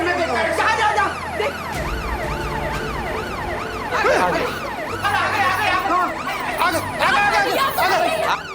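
A fire brigade engine siren wails continuously in rising and falling sweeps, loud and close, during a building fire emergency, with a babble of voices and street noise underneath.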